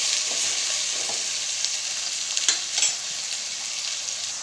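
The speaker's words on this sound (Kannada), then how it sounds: "ಸೊ ಫ್ರೈ ಆಗ್ತಿರೋದು" Vegetables, including knol-khol and beans, frying in a pan, a steady close hiss and sizzle with a few soft stirring scrapes, alone without talk.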